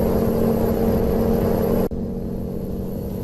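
Scania R730 truck engine in Euro Truck Simulator 2 on a winter tour of Scandinavia, a steady low, even drone that dips for an instant partway through and then carries on slightly softer.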